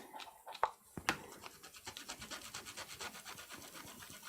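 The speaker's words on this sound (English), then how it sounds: "I'm just gonna scrub this stamp a second with a stamp cleaner." A rubber stamp stained with red ink is scrubbed with a stamp cleaner, giving quiet, close, rhythmic scratchy strokes in a steady back-and-forth pattern after a couple of sharper initial knocks.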